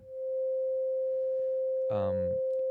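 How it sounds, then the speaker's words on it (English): Clean sine-wave preset on a 4MS Spherical Wavetable Navigator synth: a steady, pure held tone with a brief, harmonically richer blip partway through, fairly quiet and alone. "So I just loaded a clean preset, which is really a sine wave."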